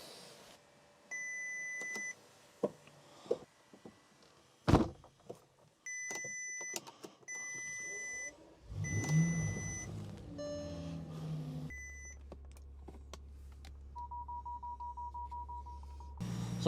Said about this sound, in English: I'm going to go through each window, putting it all the way down and up, letting go, pulling up and holding for a couple of seconds